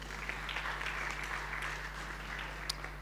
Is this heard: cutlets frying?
no